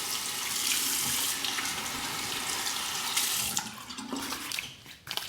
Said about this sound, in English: Quick rinse of the face.